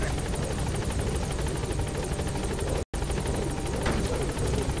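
Helicopter landing in Metal Gear Solid V: The Phantom Pain, a steady loud rotor chop with rapid blade thumps and engine whine running throughout, cut by a brief dropout near the middle.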